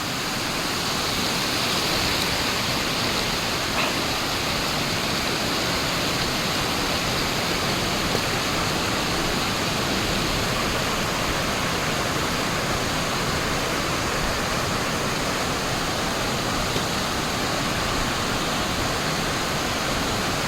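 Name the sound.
rushing river water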